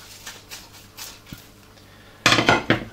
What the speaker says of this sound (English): into the pan you put the pheasant or chicken carcasses, then pour in the juices that they were cooked with